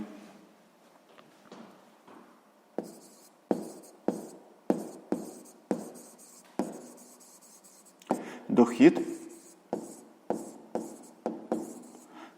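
A pen writing sixth-grade math notes, close to the page: a steady run of quick rhythmic taps and scratches, with a brief louder flurry midway and a voice talking faintly underneath.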